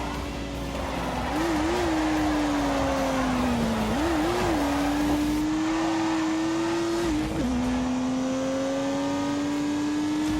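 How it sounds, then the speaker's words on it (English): Turbocharged 3-litre straight-six engine in The Grand Tour video game, droning steadily at high revs with a couple of brief dips and rises as gears shift, loud and close throughout. "unleashed 365 rampaging horsepowers from the turbocharged 3-litre straight 6"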